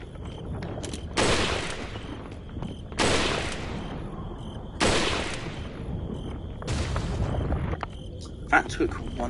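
Four heavy shotgun blasts in Resident Evil 4, spaced roughly two seconds apart, each a loud booming burst that rings off slowly, with quieter game sounds between.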